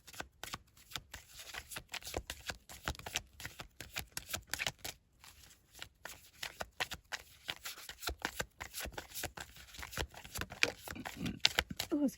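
Tarot cards shuffled by hand, a long run of quick riffling flutters and soft slaps, close and fairly quiet, with a brief murmur of voice.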